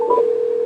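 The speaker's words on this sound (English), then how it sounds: "And there it's dialing." Telephone dialing tones play through a Pioneer AVH 8690BT car stereo calling a number: two quick keypad tones followed by a sustained steady tone, loud and alone.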